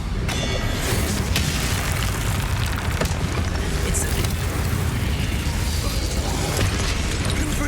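A Confringo fire-blast spell explodes in the video game Hogwarts Legacy, a dense, loud roar of blast and crackle that holds steady for several seconds with no talk over it.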